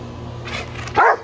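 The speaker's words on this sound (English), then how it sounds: "quit barking" A single close, sharp dog bark rising out of a low background hum.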